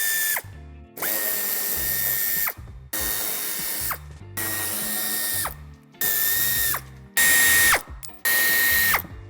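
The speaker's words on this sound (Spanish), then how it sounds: "A ambos lados del pase de ruedas aflojaremos un tornillo que nos sujeta justamente la esquina" Power tool loosens screws at the wheel arch of a Volkswagen Passat sedan, running in six or seven loud bursts of a few seconds each, separated by short silences, with a ratcheting whir close to the microphone.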